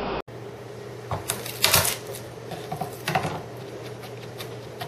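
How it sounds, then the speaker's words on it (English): A knife chops through a single garlic clove on a cutting board, giving a run of quick, close taps and scrapes that bunch up near the middle and trail off again. "I'm going to mince up 1 clove of garlic."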